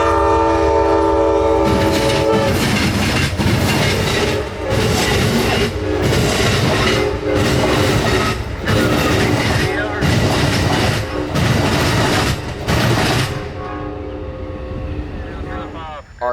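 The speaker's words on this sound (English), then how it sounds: "until Amtrak 91 showed his face from Lakeland, coming down the hill, flying into downtown Tampa." Amtrak 91 passenger train racing downhill into downtown Tampa, a series of loud, long horn blasts repeating over the close roar and clatter of the passing cars before fading out.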